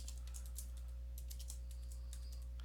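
Quick bursts of typing on a computer keyboard, with irregular clusters of key clicks over a constant low electrical hum and no voices.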